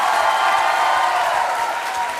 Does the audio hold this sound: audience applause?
yes